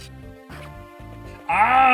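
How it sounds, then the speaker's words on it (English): Poison Strike skill effect from Fire Emblem: The Sacred Stones, a bright tonal game chime that swells in loud and sustained near the end, following quieter repeating musical tones. "that was the sound of Poison Strike activating"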